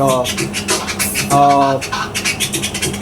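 Electric guitar played to mimic 80s DJ record scratching: rapid, choppy, pitch-sweeping bursts in an uneven rhythm, loud and close, with no talking.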